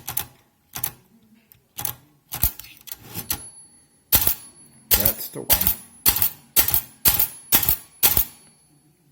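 Manual typewriter keys struck after repairing keys that stuck in the type guide: a run of sharp, loud clacks, sparse and irregular at first, then a brisk steady rhythm of strikes, with a brief spoken remark near the start.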